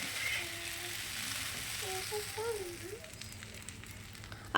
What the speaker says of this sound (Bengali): তো তার জন্য দেখো একটু ভালো করে ভেজে নেব